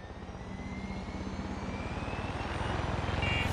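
Aircraft engine drone in Far Cry 6 during flight, a steady rumbling roar with a fast pulsing beat, constant and loud, swelling slightly toward the end with no one speaking.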